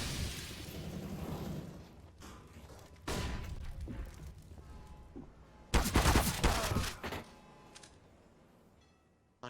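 Rapid gunfire and explosions from a competitive CS:GO match on the Overpass map come in dense bursts and volleys, louder in the middle section, then fade to quieter ambient game sound.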